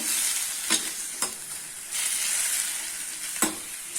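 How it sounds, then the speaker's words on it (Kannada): Onion, garlic, ginger and cloves frying in oil for a chicken gravy, a steady close sizzle with a few louder stirring scrapes of the spoon, no voices over it. "ಈಗ ಒಂದು 10 ನಿಮಿಷ ಇದು ಎಣ್ಣೆಲೆ ಫ್ರೈ ಆಗಬೇಕು."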